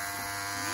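Electric clippers cut a man's hair at home, giving a steady close buzz with no break for the whole short moment.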